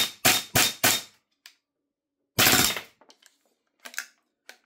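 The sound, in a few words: B&T GHM9-G gas blowback airsoft gun firing with suppressor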